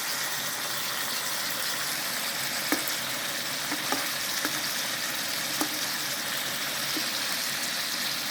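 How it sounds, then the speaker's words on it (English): Chicken wings fry in a pan for a Chinese soy and honey wing dish, giving a steady, close hiss of oil with a few faint clicks and pops scattered through. "All the sides shall be equally fried."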